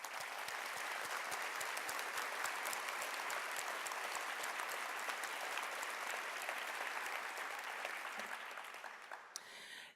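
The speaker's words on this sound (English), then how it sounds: "Representatives Lisa Dugan, Mary Flowers, and Robert Pritchard to please rise and accept our applause." An audience applauds state representatives Lisa Dugan, Mary Flowers and Robert Pritchard as they rise. The clapping is dense and sustained, steady for nearly the whole stretch before tapering off at the very end.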